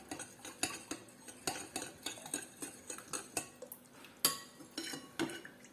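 A spoon stirring diluted cornstarch in a bowl, producing a steady run of quick clinks and scrapes about twice a second, close and quiet, with one sharper knock partway through and no voices.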